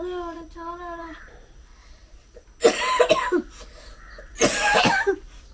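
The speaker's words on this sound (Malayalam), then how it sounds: "ക്യാമറ ഓണാക്കുമ്പോൾ ചുമക്കലെന്ന് ഞാൻ പറഞ്ഞിട്ടുണ്ട്" Two separate bursts of harsh coughing ring out close by in a house, with a faint voice or tone earlier and quiet pauses between the fits.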